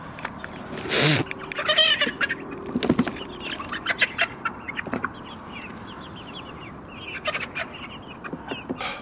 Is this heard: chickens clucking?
yes